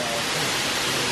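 Waterfall near Ubud on Bali, a steady broadband rush of falling water filling the whole short clip at close range, with no clear speech over it.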